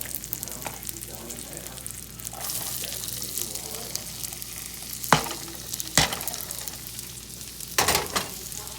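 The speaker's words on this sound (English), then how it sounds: "I'm gonna saute this till it's nice and brown with all of those little meat bits in it" Onion and garlic sauté in butter in a hot pan holding browned meatball bits, with a steady close sizzle and a few sharp stirring scrapes and clacks, a voice faintly heard under the frying.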